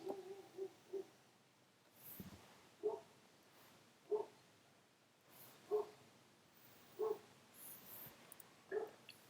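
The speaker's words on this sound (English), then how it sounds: "It's likely that she's barking at nothing" A Doberman Pinscher–lab mix barks in a series of short, separate yaps, about eight spread over several seconds, fairly faint and heard at a distance with no talking.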